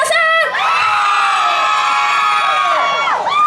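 A concert audience at the Baihe lotus festival opening gala screams and cheers loudly and continuously, a dense sustained roar of high-pitched shrieks filling the whole stretch.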